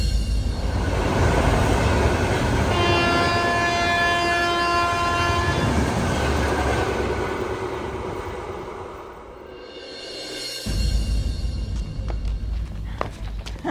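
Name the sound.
train sound effect with horn, comedy sketch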